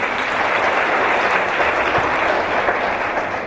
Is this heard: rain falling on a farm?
no